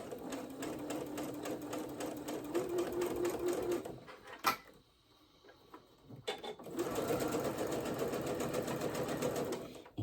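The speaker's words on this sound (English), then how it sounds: "And keep sewing all the way down." A sewing machine stitches a seam down a pair of pajama pants, running steadily at close range, pausing briefly in the middle before resuming its rapid, even whirring.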